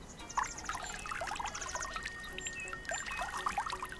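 Liquid pours steadily into a cup during a minigame in the Spirittea video game, a continuous trickling stream with small bright plinks and chimes scattered over it, fairly loud and alone without talk.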